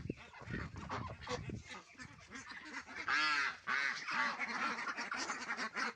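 A farm flock of ducks and geese, including Indian Runner, Khaki Campbell and Pekin ducks and Chinese geese, honks and quacks close by, with repeated loud goose calls in the later part and a brief voice near the start.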